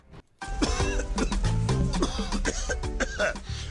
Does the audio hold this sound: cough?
yes